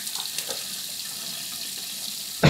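Water runs steadily from a tap into a sink for washing the face, a continuous hissing stream that stays even throughout before a brief louder splash at the very end.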